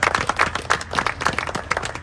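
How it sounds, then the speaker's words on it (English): An audience at a Savannah grant event applauds a guest, close and steady with dense overlapping hand claps running through the short stretch, no voices above it. "Give him a big round of applause for being here"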